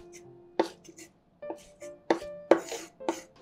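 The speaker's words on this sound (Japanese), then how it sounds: "ニラはまあだいたい5センチ長さぐらいに切りましょうか。" A knife cuts garlic chives into roughly 5 cm lengths on a cutting board, giving about six crisp, irregularly spaced chops that are close and distinct.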